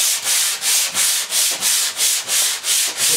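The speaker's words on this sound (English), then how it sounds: "Notice I'm sanding the smooth side" Steady back-and-forth sanding strokes, about ten rhythmic scrapes of rough sandpaper on the smooth side of a hardboard panel, close and loud with no talking.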